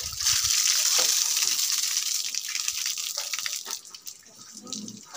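Water gushing at a spring stream as stinging nettle and mustard greens are washed, a steady close splashing rush that eases off toward the end.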